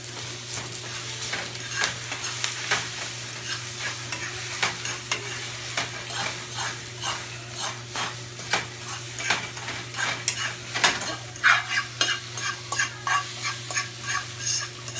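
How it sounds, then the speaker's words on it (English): Eggs frying with spinach in a pan for breakfast, a soft steady sizzle with a busy run of spatula scrapes and taps against the pan that grows quicker and more frequent toward the end, close and with no speech. "get my eggs in the pan with my spinach"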